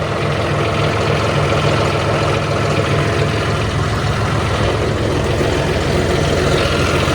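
John Deere tractor engine idling, a loud, steady low rumble that holds unchanged throughout with no voices.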